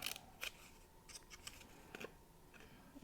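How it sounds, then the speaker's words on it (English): Paper snips cutting cardstock for a handmade birthday card, a few faint, crisp snipping clicks spaced apart in a quiet room. "And cut straight across the top."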